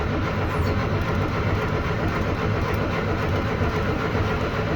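A Triumph Spitfire engine runs poorly, giving a rough, dense rumble that stays loud and close throughout with no clear catch into a smooth idle.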